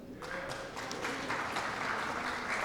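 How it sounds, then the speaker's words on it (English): A room at a community board general meeting claps for a speaker stepping up to the mic, a steady patter of hands that holds throughout. "we can clap for him"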